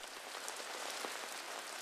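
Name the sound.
early winter rain falling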